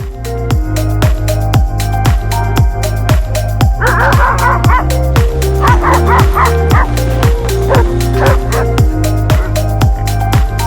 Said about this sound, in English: And these are my goofy dogs back here.